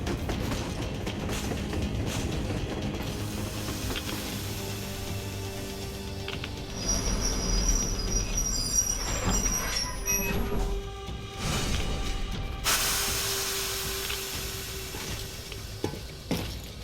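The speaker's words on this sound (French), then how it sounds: "Yermak, arrête la loco." Locomotive in the game Metro Exodus slowing to a halt, a low rumbling rail drone overlaid with rising metallic brake squeals and hissing, growing louder toward the end with no speech.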